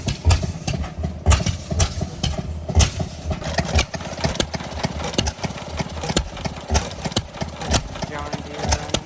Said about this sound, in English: John Deere running.